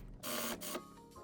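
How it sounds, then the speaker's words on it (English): A sewing machine stitching a coat's facing down to a pocket, two short mechanical whirring bursts close by, separated by a brief pause, fairly quiet. "I'm gonna sew the rest of the facing down to the pocket everywhere."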